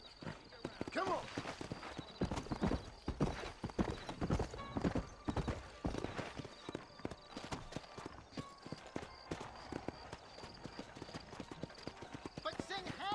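Horse hooves clip-clop steadily through Red Dead Redemption game audio, a continuous rhythmic trot close up with occasional whinnies and other game sounds layered in.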